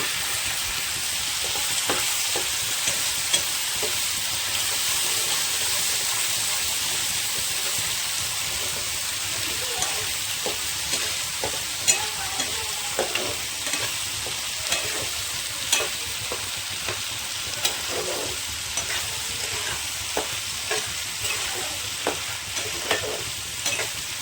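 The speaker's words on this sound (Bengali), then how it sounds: "এবার ভালো করে নেড়ে দেবো।" Mutton brain curry fries in a pan with a steady, dense sizzle. Soft scraping stirs and small pops recur throughout, close up, with no talking.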